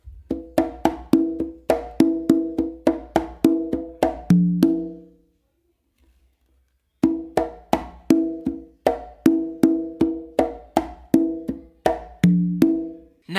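Conga and tumba playing a full tumbao, a steady run of crisp hand strikes and ringing open tones, broken by one pause of about two seconds and then resumed, close and loud, no talk.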